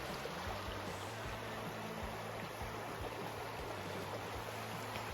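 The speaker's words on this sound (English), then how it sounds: "Running water." Running water after heavy rain in the desert rushes in a steady, even wash, faint and continuous with no talk.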